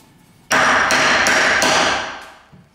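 A hammer strikes a cold chisel against metal parts of an 1865 Forster & Andrews pipe organ being restored, four loud, close, ringing blows in quick succession that trail off into a fading ring.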